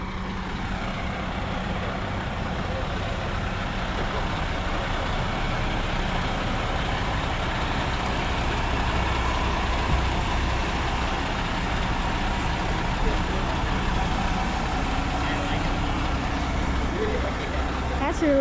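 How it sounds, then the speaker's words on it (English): A heavy haul truck with three axles at the Lanita Specialized truck show 2025, a continuous low engine rumble and idle throughout with steady outdoor background noise and people talking over it. "And this looks like another heavy haul truck"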